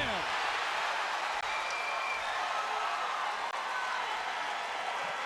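Steady roar of an MMA arena crowd cheering as a fighter slams his opponent, a dense continuous wash of voices and applause holding loud and unbroken throughout.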